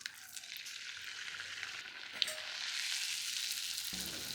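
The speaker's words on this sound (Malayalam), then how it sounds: "ചൂടായി കിടക്കുന്ന എണ്ണയിലേക്ക് പത്തിരി ഇട്ട് കൊടുക്കാം." Crispy fried pathiri sizzles in hot oil in a tea-shop-style preparation, a steady, close crackling hiss that holds throughout with a small pop midway and no voices.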